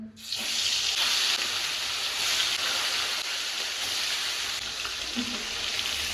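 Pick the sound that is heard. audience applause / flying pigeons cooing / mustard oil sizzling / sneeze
mustard oil sizzling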